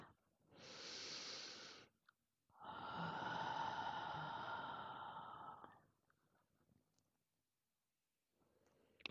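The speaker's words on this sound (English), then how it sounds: "Let's take another deep breath." Two long, slow breaths close to the mic, a drawn-in inhale followed by a longer, airy exhale, soft and breathy with quiet pauses between.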